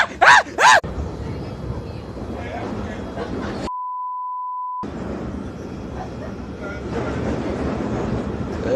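A London Underground train running, with steady broadband rumble and rattle throughout, a long continuous beep tone cutting in midway, and loud voices at the start.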